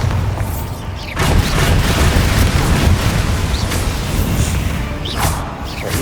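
Booming spell blast in a fantasy video game set inside a tomb, a loud rumbling explosion that swells after about a second and holds as a dense roar before easing off, with faint crackles on top.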